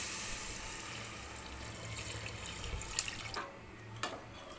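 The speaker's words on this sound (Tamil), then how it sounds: "அளந்து வச்ச தண்ணியை நம்ம சேர்த்துக்கலாம்" Steady rush of water being poured into a pot for veg biryani, fading out near the end with a couple of faint clinks and drips.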